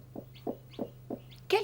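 A brooding hen gives four soft, evenly spaced low clucks, close and quiet, followed by a brief brighter squawk at the end.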